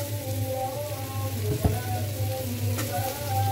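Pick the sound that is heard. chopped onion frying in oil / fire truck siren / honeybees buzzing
chopped onion frying in oil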